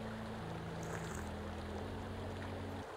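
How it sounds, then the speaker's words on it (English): Steady running water in the Sons of the Forest survival game, a continuous rushing wash mixed with low droning tones, constant and moderately loud for the whole stretch without talk. "Running water."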